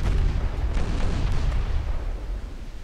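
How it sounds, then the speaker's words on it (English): Torpedo hits explode against a warship in Ultimate Admiral Dreadnoughts, a loud continuous rumble of heavy blasts that rolls on and then fades slightly, with no voices. "we get torpedo hits here"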